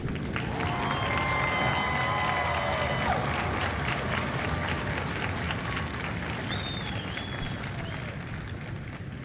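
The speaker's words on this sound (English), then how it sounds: "please join me in a round of applause for the company staff of Company B" An audience at a Marine Corps recruit graduation ceremony at MCRD San Diego claps in a broad, sustained wash of applause with some cheering and whistles, gradually easing off toward the end.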